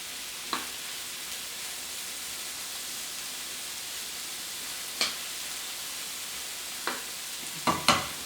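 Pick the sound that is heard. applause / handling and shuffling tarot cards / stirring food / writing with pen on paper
stirring food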